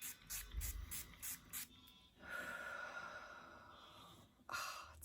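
Several short hissing spritzes from a pump spray bottle of facial mist, sprayed into the air and onto the face, then a long soft exhale and another brief spray, all close up in a quiet room.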